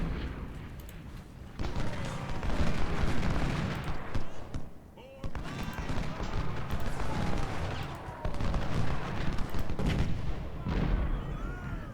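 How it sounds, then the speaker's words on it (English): Civil War cannon and musket fire in the strategy game Ultimate General Civil War booms and crackles in repeated heavy bursts, a loud continuous battle din with someone talking over it. "let the artillery start doing its thing."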